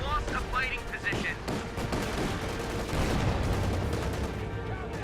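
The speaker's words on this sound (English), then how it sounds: "Oh no, we're shooting at the tank." Dense rattling gunfire and heavy cannon-like booms from a Company of Heroes 2 World War II battle as troops fire on an enemy tank, loud and continuous throughout with a voice speaking briefly over the din.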